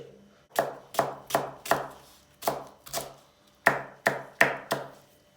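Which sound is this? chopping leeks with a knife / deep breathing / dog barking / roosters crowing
chopping leeks with a knife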